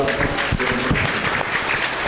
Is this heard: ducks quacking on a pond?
no